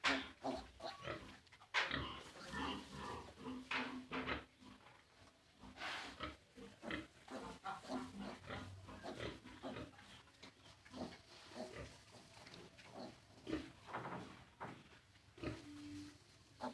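Pigs on a farm in Assam, resting on straw bedding, give repeated grunts and snorts in an irregular, fairly close sequence with low farmyard background noise and no talk.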